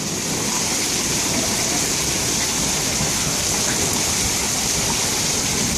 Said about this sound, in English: Here's some hail on our porch.